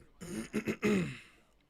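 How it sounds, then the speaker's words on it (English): A short, close throat clearing breaks into a couple of quick tickly coughs, then fades to near silence. "I can't get rid of this tickly cough."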